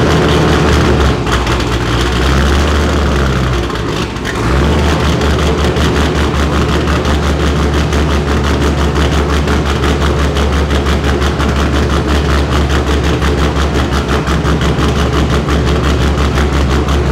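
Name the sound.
car engine idling with custom exhaust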